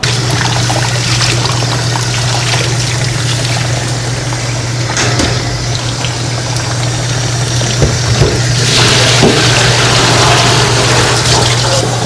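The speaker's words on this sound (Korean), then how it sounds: "그래서 이거를 물에 한번 헹구시고 맹물에 한 1분 정도 담궈 놓습니다" Running tap water pours steadily into a basin as salted radish is rinsed for yuzu pickle, a loud continuous splash with a low steady hum underneath.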